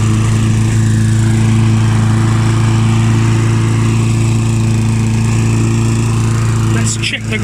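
Mountfield M4 petrol lawn mower engine running steadily while mowing a lawn, a loud, close, continuous drone with a constant pitch, briefly disturbed near the end.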